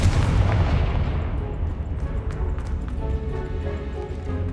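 A Confringo fire spell blasts in Hogwarts Legacy, filling the moment with a loud, dense explosive roar that rumbles on and slowly tapers, with faint crackles over the top.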